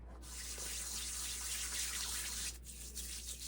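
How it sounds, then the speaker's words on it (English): Tap water runs steadily from a faucet onto hands coated in a whipped foaming sugar scrub, a continuous close splashing hiss that cuts off near the end, leaving a few faint drips and hand sounds. "I'm just going to add a little bit of water."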